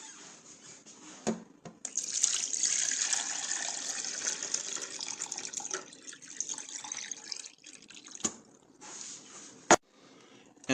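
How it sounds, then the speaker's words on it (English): Water poured into the insert of an alkaline filter pitcher: a close splashing trickle that starts after a few clinks, runs steadily for several seconds, then fades to drips and light knocks. "I'm going to put a little water in here."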